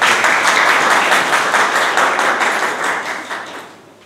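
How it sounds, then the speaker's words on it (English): An audience at a speaking club meeting claps in a dense, steady burst of many hands, loud at first and then gradually tapering off toward the end. "Clap. Let's clap."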